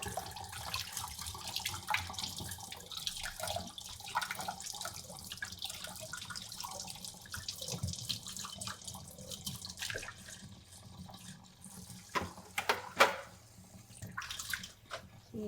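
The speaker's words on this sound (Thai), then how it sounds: "เปิดน้ำ ล้างผัก" Water runs from a kitchen tap while vegetables such as spring onions are rinsed under it, a steady close splashing stream with small shifts and splatters as the produce moves.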